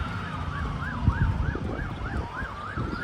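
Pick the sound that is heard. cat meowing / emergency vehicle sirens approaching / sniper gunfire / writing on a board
emergency vehicle sirens approaching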